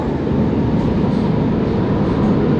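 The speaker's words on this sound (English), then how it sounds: "And off to the right should be the B train" Paris RER B train at an underground station platform, a steady, loud rumble of rolling stock and tunnel noise that holds constant throughout with no talk.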